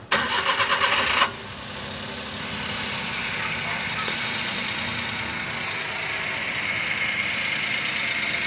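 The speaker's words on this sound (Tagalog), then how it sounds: "papaandarin natin ang makina kung aandar pa ba to" A Suzuki K6A car engine, just overhauled after smoking and overheating, cranks with a rapid, rattling chug for about a second, then catches and settles into a steady, even idle that runs on.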